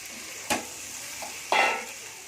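Fried potatoes and eggs are stirred into a thick spice masala for an egg curry, with two distinct scraping stirs over a soft, steady sizzle and no voices.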